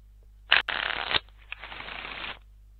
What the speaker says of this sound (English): Step two, shuffle the power cards.